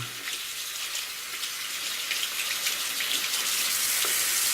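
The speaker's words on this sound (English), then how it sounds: "So, rinse it out," A paintbrush rinsed under a running kitchen tap, a steady close stream of water splashing and hissing continuously, growing slightly louder toward the end, with no talking.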